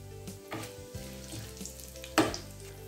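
Quiet sizzling of whole fennel seeds, cinnamon, cloves and star anise frying in hot oil for a mutton kola urundai kulambu, with a few soft clinks and stirring noises, no talking.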